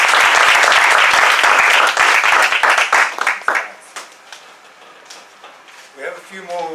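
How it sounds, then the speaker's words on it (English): A roomful of people at a speech club meeting breaks into loud, dense applause that holds for about three seconds, then thins out and fades. Near the end a voice starts speaking. "I'd just like to give them a round of applause."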